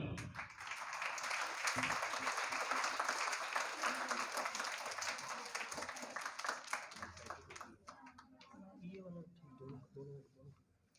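An audience at a school event applauds to welcome the principal of Islamic Educators school, dense clapping that builds and holds, then thins into scattered claps as a voice speaks near the end.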